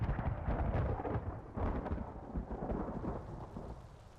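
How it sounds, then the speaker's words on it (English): Thunder in the racing game Need for Speed Underground 2: a loud, deep rolling rumble swelling and fading over several seconds with a rain-like hiss beneath, no talk. "Thunder."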